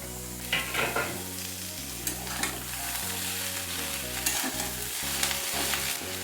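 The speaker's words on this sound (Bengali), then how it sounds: "আলু আর বেগুনের টুকরোগুলো একটু ভাজা ভাজা হয়ে যাচ্ছে" Potato and eggplant pieces frying in a pan with oil, a steady close sizzle broken by repeated scraping and stirring strokes, with no talking.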